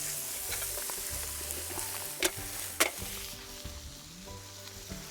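Shore lunch sizzling and frying over campfire coals, a steady close crackle with a couple of sharp pops, no voices.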